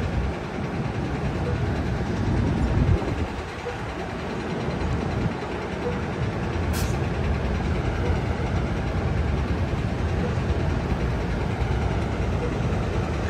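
An Amtrak Capital Corridor passenger train rumbles steadily with a low engine drone throughout, continuous and even, with a brief high squeal partway through.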